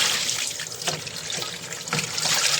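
Tap water runs in a steady, hissing stream while plates and bowls are washed after cooking, with no talking.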